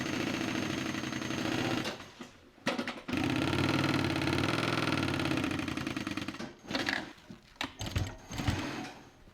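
An industrial sewing machine stitches white leather for a bag, running in a steady, loud mechanical chatter with a short pause and then a string of brief stop-start bursts toward the end.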